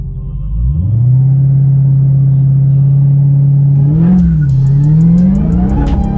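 A 2020 Dodge Charger Hellcat Widebody launching with launch control: a deep, loud engine drone holds steady at launch revs, then surges as the car pulls away, with a brief voice partly over it.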